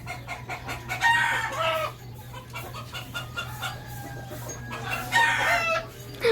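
A rooster crows loudly twice, with hens clucking steadily in the background.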